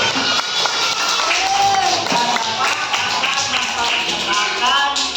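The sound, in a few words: applause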